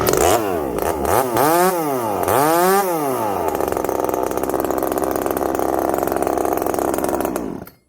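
A FARMMAC F372 Neo Tec chainsaw, a 372 clone running a 3/8 low-profile semi-chisel chain, revs up and down twice in loud sweeping surges, then holds a steady high-rpm drone for several seconds before cutting off abruptly.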